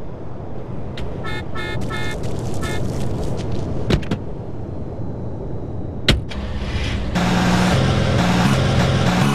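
A car drives in GTA San Andreas, a steady engine rumble with a few sharp clicks and knocks, then the engine note rises and thickens near the end, loud and close without talk.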